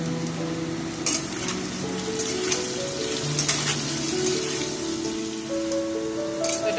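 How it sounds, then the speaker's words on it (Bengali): Salt and turmeric sizzle and fry in a hot pan, giving a steady, close crackle with occasional sharper pops and a faint tonal hum underneath throughout. "অল্প করে হলুদ দিয়ে এটাকে ভাজা করছি"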